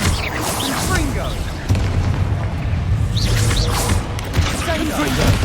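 Confringo blasting spell explosions in the Hogwarts Legacy video game, loud and continuous as booming blasts layer over a dense roar of battle effects, with shouted spell voices mixed in.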